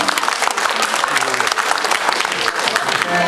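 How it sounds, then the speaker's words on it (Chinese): A concert audience bursts into steady, dense applause that fills the whole stretch at close range, with faint crowd murmur mixed in and no clear break. "请大家掌声鼓励"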